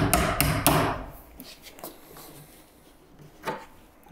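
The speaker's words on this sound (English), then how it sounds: "I'm gonna pry off at least one of my stops" A pry bar works a window stop loose, giving three sharp knocks at the start followed by fainter taps and creaks of wood, with one more crack near the end.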